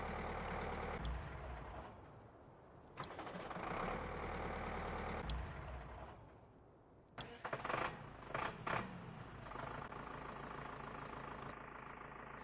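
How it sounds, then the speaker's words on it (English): Game engine audio from Farming Simulator 19 on the Goldcrest Valley map, with two farm vehicles idling and revving in turn, a steady mid-pitched drone broken by a few short throttle bursts, fairly close and without talk. "So different engine sounds on both vehicles there,"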